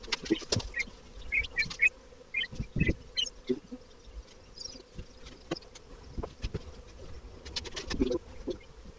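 Honey bees buzz in short, uneven bursts close to a hive, mixed with faint knocks and rustles, with no one talking.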